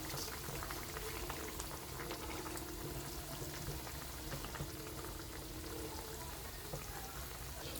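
Pabda fish curry with potatoes, fried fish and fried eggplant simmers in a pan, a faint, steady bubbling and crackle that continues without a break.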